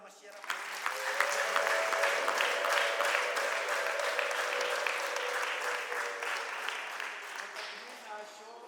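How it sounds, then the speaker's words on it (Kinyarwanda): A church congregation applauds in praise, a sustained wash of clapping that swells quickly and holds steady for several seconds, moderately distant, then tapers slightly at the end. "tuyikomere amashyi"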